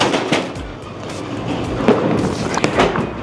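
A bowling ball striking string pins during a game, a sharp close crash of pins with rattling clatter after it, among gym-like background noise and scattered bangs.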